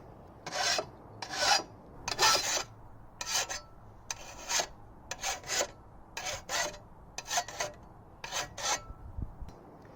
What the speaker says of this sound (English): We achieve this by putting the file flat on the surface